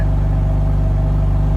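A BMW M2 engine with a raspier, rougher tone idles steadily at close range, a continuous low throbbing drone with no talk over it.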